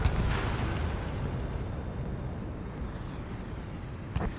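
Bombs dropped from an F-4E in the combat flight game Ace Combat 7 explode as a sustained low, rumbling roar with a dense blast wash, plus a sharper thump near the end.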